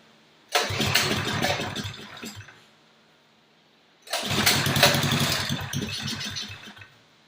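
An Axis MB200 minibike engine fires up twice, each time catching and revving roughly for a couple of seconds or more before cutting out, loud and close with a pause between the two starts.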